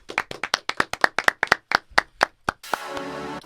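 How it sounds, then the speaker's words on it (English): A small group claps together on a podcast recording, about sixteen sharp, distinct claps in a quick, slightly uneven rhythm, close and loud, ending in a short burst of denser noise. "give a quick round of applause."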